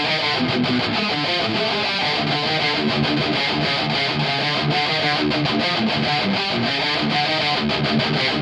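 Heavily distorted electric guitar through a Marshall DSL20H amp with an MXR 6-band EQ in front pushing the mids, playing a continuous, loud, dense riff with steady rhythmic chugging and no talk.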